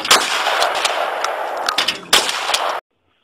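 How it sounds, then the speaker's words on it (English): A hunting rifle fires during a whitetail deer hunt, a loud, sharp blast with a ringing tail and a few smaller report-like bangs, ending abruptly in silence. "So he squinted his eyes and fired off his gun"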